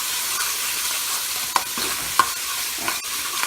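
Stew snapper with tomatoes simmering in a pot in a home kitchen, a steady soft sizzle and bubbling with a few sharp clinks of a spoon against the pot.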